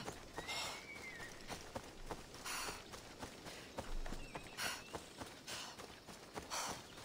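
Horse hooves clip-clop steadily along in the Assassin's Creed Odyssey video game, a brisk even rhythm of hoof strikes with occasional louder bursts and faint game ambience, no talking.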